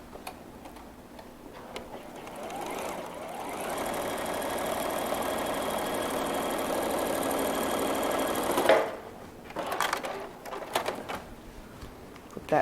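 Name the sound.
sewing machine stitching a bowtie quilt block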